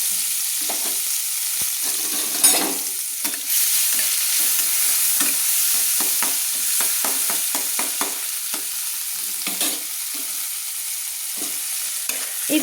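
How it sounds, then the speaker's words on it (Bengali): Onions frying in a pan of oil left from frying eggplant, a soft steady sizzle with repeated scraping and tapping strokes of stirring, close and alone. "দিয়ে আমি পেঁয়াজগুলোকে একটু লাল লাল করে ভেজে নিচ্ছি।"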